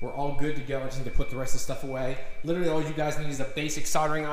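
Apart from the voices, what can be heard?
No everyday noise stands out behind the speech.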